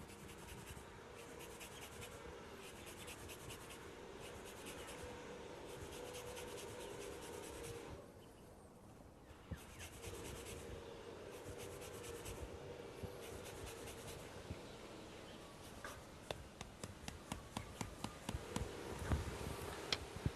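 Lemon being zested on a grater for a lamb marinade with cumin and olive oil, a quick rhythmic scratchy rasping repeated in close strokes, with a short pause midway and some clattering toward the end.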